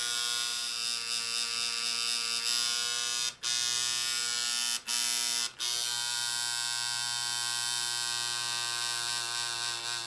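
A tattoo machine shades in bright yellow colour, giving a steady close electric buzz with a strong hum that runs almost the whole time, broken by three brief stops.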